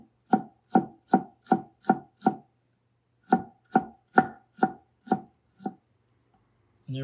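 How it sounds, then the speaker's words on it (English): A knife julienning radish on a cutting board chops in two quick runs of about six and seven crisp, evenly spaced strokes, close and clear with silence between. "Julienne radish."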